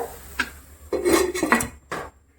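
A metal lid set onto a pot of vegetables simmering in water for set dosai kurma, a few close clinks and clatters in quick succession, then quiet.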